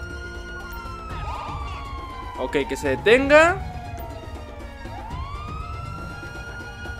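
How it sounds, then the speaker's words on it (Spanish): A police car siren in the video game GTA 5, wailing and yelping in sweeping pitch sweeps with a dense burst of rapid warbles midway, over traffic ambience while someone speaks. "Vamos a prender la sirena."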